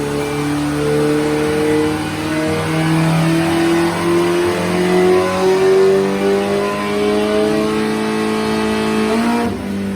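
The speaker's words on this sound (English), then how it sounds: "we were having troubles getting the back tire to hook up on the dyno" A Honda CB1100F motorcycle engine revving on a dyno, a loud close drone whose pitch climbs steadily through the gears before cutting off sharply at the end.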